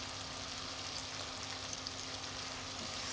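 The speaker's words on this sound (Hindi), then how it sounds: "बस अब इसको 2 से 3 मिनट के लिए फ्राई करेंगे" Chicken korma masala with yogurt, ground coriander and garam masala fries in a pot, a soft, even sizzle held close and steady throughout with no voices.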